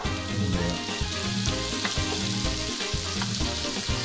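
Carrots, garlic and onion frying for a lentil cook-up rice, a loud close sizzle with rhythmic scraping stirs and a low pulsing rumble underneath, no one speaking.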